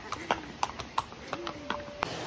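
Horses walking on a trail near the Cola de Caballo waterfall in Santiago, Nuevo León, a handful of sharp, fairly close hoof clops at an uneven pace, with faint voices and a soft whistle in the background.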